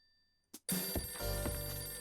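Telephone ringing in the video game Last Window, a bright electronic ring that bursts in loud after a brief quiet click and continues steadily to the end, with no talking.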